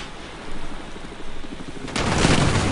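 Rain storm in the Battlefield video game, a steady hiss of rainfall that swells suddenly into a louder, denser downpour near the end, no talk over it.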